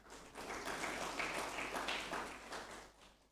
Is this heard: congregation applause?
yes